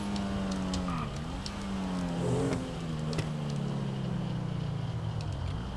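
A BMW-like car engine in GTA 5 drones steadily and shifts pitch as it accelerates, loud and continuous throughout with no talking.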